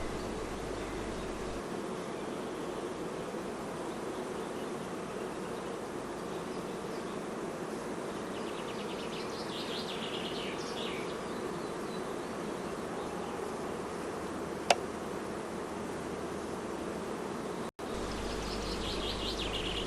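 Honeybees buzzing around a hive being expanded with an additional honey super, a steady dense drone throughout with a faint bird call and a brief click, no talking.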